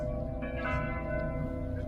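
Church bells ring out over a harbour in Kotor, Montenegro, a steady sustained tolling heard from a distance and mixed with outdoor ambience.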